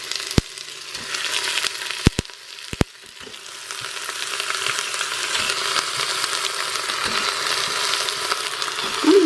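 Rabbit legs dropped into a hot pan sizzle and fry steadily, with a few sharp clinks of utensils at the start before the crackling hiss builds and holds loud to the end.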